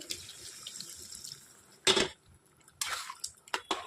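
Water poured into a cooking pot with potatoes for a vegetarian aloo dum, a short near splash followed by a couple of clattering pot and water sounds, fairly quiet overall.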